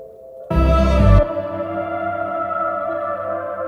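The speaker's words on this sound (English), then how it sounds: "It almost sounds like an erhu, which is a Chinese instrument." Logic synthesizer patch with an erhu-like timbre: a sudden loud, bright burst with deep low body, then a sustained resonant bowed-string-like tone ringing on steadily, alone without talk.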